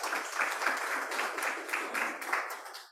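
Audience applause follows a talk, a steady wash of many hands clapping that tapers off at the end.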